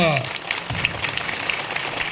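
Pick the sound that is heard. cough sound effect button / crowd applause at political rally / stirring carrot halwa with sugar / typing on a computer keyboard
crowd applause at political rally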